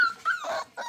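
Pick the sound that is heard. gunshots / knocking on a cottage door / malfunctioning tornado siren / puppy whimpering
puppy whimpering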